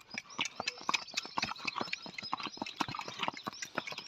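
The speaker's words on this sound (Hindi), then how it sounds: "हम राइडिंग के लिए निकली है और समीर भैया है, इसकी घोड़ी है माही" Several horses out on a ride, including a mare with her foal and an army horse, walking with a steady, overlapping clip-clop of hooves close by, with no talking over it.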